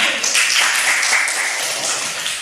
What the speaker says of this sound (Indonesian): Tepuk tangan buat Abdillah